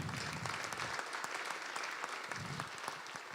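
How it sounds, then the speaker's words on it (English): An audience at a civic presentation on Springfield's redevelopment applauds, a steady, fairly soft patter of many hands clapping with crisp individual claps standing out, and no talk. "That's a very nice round of applause"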